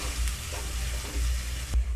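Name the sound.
ginger cooking on low flame while stirred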